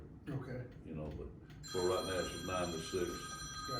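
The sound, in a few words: mobile phone ringing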